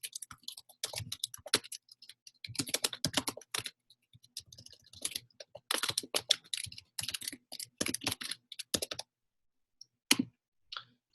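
Rapid bursts of computer keyboard typing while commands are entered in a terminal, close and crisp, in uneven clusters of keystrokes separated by short pauses, with a few isolated taps near the end.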